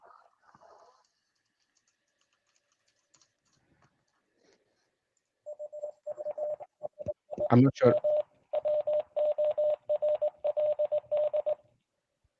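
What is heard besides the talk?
CW Morse code tones played by Boondock Echo device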